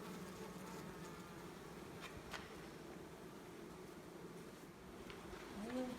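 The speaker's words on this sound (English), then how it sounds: "Just playing with my bees." Honeybees buzzing around a beehive, a steady, dense hum of many insects close by, constant throughout with faint background noise.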